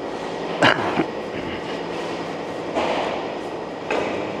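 A long PU roofing system production machine runs with a steady, loud mechanical rumble, broken by a few heavier clunks near the start and later; no voices.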